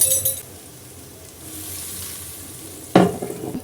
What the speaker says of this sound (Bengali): মশলার ওপরে তেল চলে আসা পর্যন্ত খুব ভালো করে ভুনা করে নেব